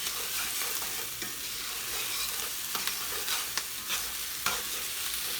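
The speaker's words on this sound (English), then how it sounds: "as you keep stirring it, see how it's wilting down?" Kale stirred as it fries and wilts in a pan, a steady broadband sizzle with scraping stir strokes and small clicks throughout, close and continuous with no talking.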